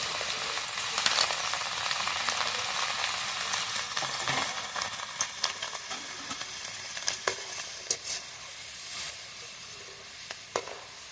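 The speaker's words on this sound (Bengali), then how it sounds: "এইভাবে অল্প অল্প করে ডালগুলো সুন্দরভাবে লাল লাল করে ভেজে নিয়ে আসছি" Dal fries in deep oil in a home kitchen, a steady bright sizzle throughout with occasional sharp crackles and spoon stirring noises, close and continuous.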